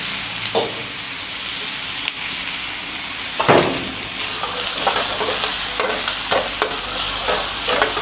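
Ginger-garlic paste frying in a pan for a Kolhapuri mutton fry, with a continuous close sizzle and intermittent sharp scrapes and stirring clatters of a utensil against the pan.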